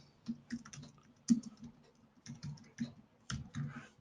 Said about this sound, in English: you can type in a description